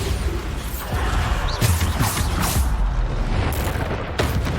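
Bombarda explosion spells go off during Hogwarts Legacy combat, dull booms landing in quick succession over a loud, busy battle din.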